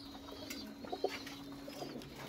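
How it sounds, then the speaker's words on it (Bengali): Army breed pigeons in a loft give soft, low coos against a quiet background hum, a few short calls in the middle. "এগুলো হচ্ছে মেন ব্রিডার কবুতর আর্মির"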